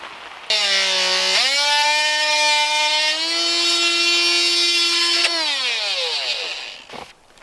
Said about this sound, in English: we're drilling holes for the all thread that ties into the foundation in these